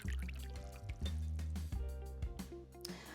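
Hot coffee pours into a bowl of chocolate cake batter with a steady gurgling fill whose pitch rises as the liquid level climbs, close and fairly quiet, with no talking.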